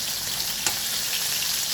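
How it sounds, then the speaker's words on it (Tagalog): Beef burger steak fries in a pan with a dense, even crackling sizzle, fairly loud and close, with one small pop early on and no voices. "Luto ko na burger steak ha."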